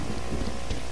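Rain begins falling in the medieval survival game Reign of Kings, a dense, hissing wash of noise with low gusty rumble, loud and steady over a brief moment, no voices present.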